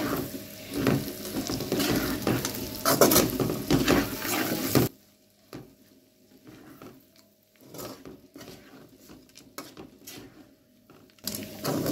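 Bitter gourd curry fries in a pan, a loud crackling sizzle with scraping stirs for several seconds, then quieter intermittent scrapes and soft sizzling before the vigorous frying returns at the very end.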